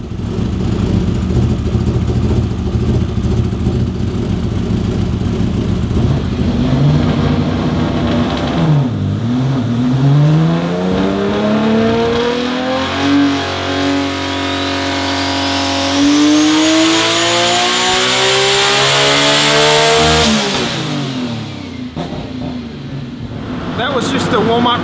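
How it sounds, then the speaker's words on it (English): Methanol-fuelled, turbocharged Nissan RB30 inline-six revving on a dyno: loud, close engine that drops, then climbs steadily in pitch through a long pull before easing off, with a voice talking over parts of it. "imagine what this is going to sound like at about double that"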